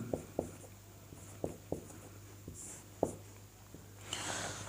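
Writing on a board during a Sanskrit lesson: irregular, close taps and scratchy strokes of chalk or marker, with a brief brushing sweep near the end and no talking.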